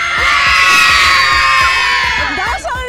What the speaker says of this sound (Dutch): Laat eens even met z'n allen horen hoe hard we kunnen gillen voor de meiden in Canada.